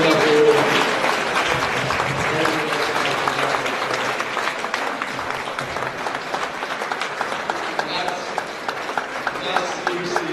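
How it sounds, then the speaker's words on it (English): Audience applause at a university inaugural lecture in a large hall, a steady dense wash of many hands clapping that carries on for the whole stretch without easing, with faint cheers or voices mixed into the crowd. "Can we rise up and give another round of applause for"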